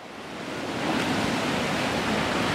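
Ocean swell breaking on a rocky shore during a fishing trip for rays, a loud, steady wash of surf that swells up and then holds as a continuous roar, with no voices.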